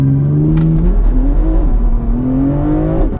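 Ferrari 488 Pista sports car engine revving near and loud, the pitch climbing in stepped surges and rising again before cutting off sharply at the end.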